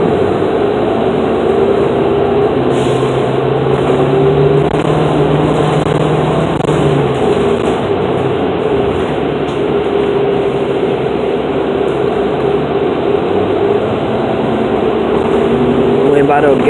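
A car merges onto a freeway, its steady road and engine rumble filling the cabin without a break, while a person talks inside.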